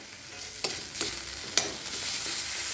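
Spoon stirring tomato, salt and spices through a soybean and potato curry in a pan, a few sharp scraping clicks over a steady soft sizzle, close and moderately loud.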